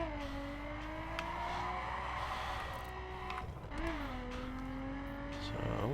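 A car engine in The Crew whines and revs steadily while driving in manual, the pitch holding then dipping and climbing again mid-run, loud and continuous.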